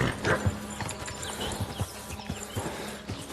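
Horse hooves clip-clopping in the video game Kingdom Come: Deliverance 2, a steady rhythmic series of close hoof strikes over soft ambient background.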